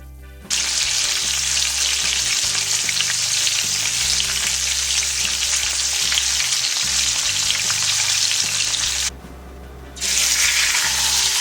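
Vegetables searing in a little oil in a pan, a loud steady sizzle that drops out briefly near the end before resuming, with low clanks underneath.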